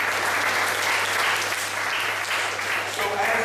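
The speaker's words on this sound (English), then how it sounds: "Let's clap it up for Mr. Brett, please." Audience at a professional development session applauding steadily, a dense, sustained wash of clapping that stays loud throughout with a low hum beneath.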